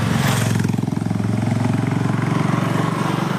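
A motorcycle on the move gives a loud, steady engine drone at close range that holds unbroken from start to finish.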